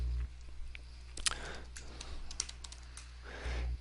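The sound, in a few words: typing on a computer keyboard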